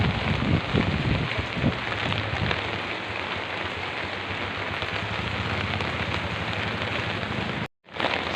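Heavy rain pours down in a dense, continuous roar of drops on surfaces, broken by a few thumping knocks early on and a momentary dropout near the end.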